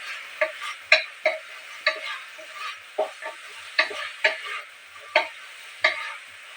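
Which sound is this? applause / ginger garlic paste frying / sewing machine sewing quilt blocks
ginger garlic paste frying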